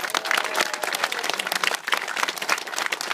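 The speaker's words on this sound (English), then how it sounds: "Can we have a round of applause for our veterans?" An audience at a political speech event in South Hill, Virginia, claps for veterans in a dense, continuous patter of many hands, loud and sustained with slight swells, and no talking over it.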